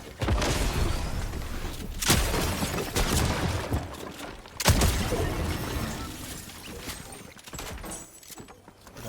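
Two sharp, loud gunshot bangs crack out several seconds apart over a busy backdrop of clattering Fortnite game noise.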